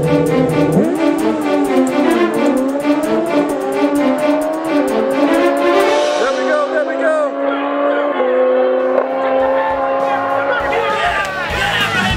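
Drag race cars launching and screaming down the strip, loud engines with rising and shifting pitch sweeps, close and sustained, with a voice talking over the noise.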